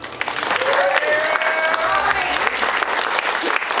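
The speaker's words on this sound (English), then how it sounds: "a round of applause for our locale here" Audience applause fills a comedy venue, the Indy on Main, as a steady, loud burst of clapping from a crowd lasting several seconds.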